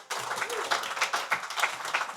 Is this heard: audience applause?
yes